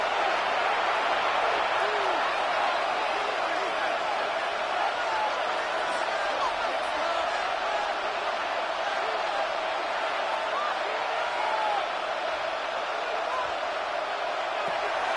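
Dense stadium crowd roar from an NFL game in Madden 26, Panthers playing, a continuous loud wash of cheering and whooping that holds steady throughout as play-by-play commentary runs over it.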